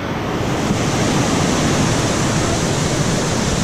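Steady, loud rush of a waterfall in Thailand, a dense broadband roar of falling water heard close by and unbroken throughout, with no voices.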